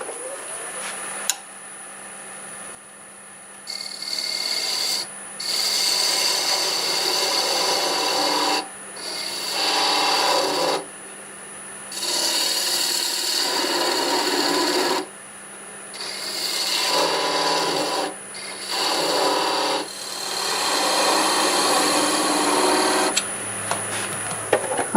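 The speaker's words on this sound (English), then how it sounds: "I've sanded most of it with 80 grit." A wooden coffee scoop being sanded with 80 grit sandpaper on a wood lathe, a loud continuous rasping hiss in repeated passes of a few seconds each, separated by short pauses over a steady motor hum.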